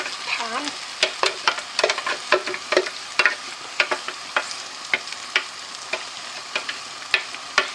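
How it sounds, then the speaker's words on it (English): Blended sauce for a Chinese chicken and mushroom curry hits a hot pan, giving a steady close sizzle with sharp scraping clicks as a utensil stirs and scrapes it in an uneven rhythm throughout. "So I'm going to add the sauce."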